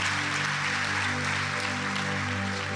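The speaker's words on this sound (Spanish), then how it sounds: "¿Cuánto le dan un aplauso grande a Jesús?" A church congregation at a live worship service applauds for Jesus with a steady, even wash of clapping, heard close and constant, over a sustained low tonal hum.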